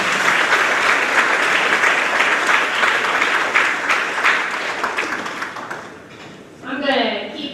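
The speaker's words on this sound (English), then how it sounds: "Give Mrs." Sustained applause from an audience at a grades 4–6 school awards ceremony for Mrs. Beasley, steady and full for about six seconds before tapering off, after which a voice begins speaking.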